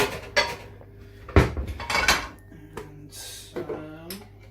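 Pots and pans clank and clatter in a home kitchen as a pan is pulled out and handled, with sharp metallic knocks and scrapes coming in bursts amid light background noise.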